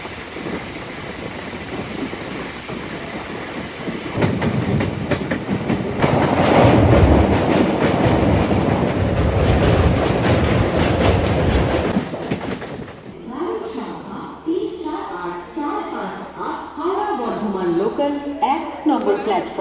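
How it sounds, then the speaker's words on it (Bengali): The 13185 Gangasagar Express rolls on after pulling out of Naihati, a loud rumbling roar with wheel clatter and wind buffeting that peaks midway. It then drops abruptly to a quieter cabin hum with muffled voices. "নির্ধারিত সময় থেকে 6 মিনিট লেটে আমাদের ট্রেন ছেড়ে দিল নৈহাটি থেকে।"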